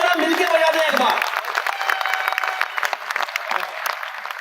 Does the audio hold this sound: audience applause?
yes